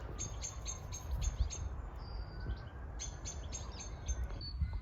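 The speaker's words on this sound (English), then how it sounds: "Hello, little robin, where are you? So loud but I can't see it." Robin singing near an allotment, bright repeated phrases in short bursts with small gaps, moderately close over a steady low outdoor rumble.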